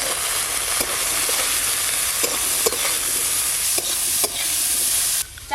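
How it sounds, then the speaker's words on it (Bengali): Cauliflower pieces sizzle in hot oil in a pan, with a constant bright crackle and a few sharp scrapes of a spoon stirring, loud and close, no voices. "ফুলকপিগুলো ভালো করে ভেজে নেব।"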